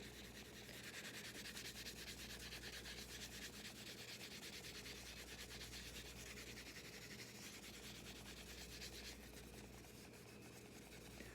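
A 3D-printed faceplate is wet sanded by hand in a continuous, steady rubbing rasp that carries on evenly throughout, quiet and close with no talking.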